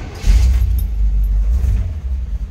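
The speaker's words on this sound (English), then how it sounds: "Let's go ahead and fire this up so you can hear that 350 run." A 1948 Chevrolet Fleetline Aerosedan with a 350 engine turns over and settles into a steady, loud, low idle rumble close by, with no talking.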